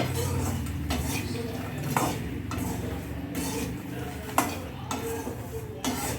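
A spoon scrapes and clinks against a pan as makhana (lotus seeds) are stirred with spice powder and salt over a low flame, in a close, rhythmic stir with a few sharper metallic knocks.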